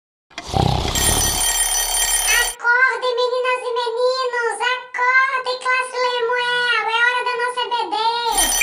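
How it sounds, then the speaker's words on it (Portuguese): An alarm clock rings loudly for about two seconds, then gives way to a steady high, warbling, voice-like melody that runs to the end. "Eu vou deixar esse despertador aqui para você ver como é um sucesso para despertar seus alunos."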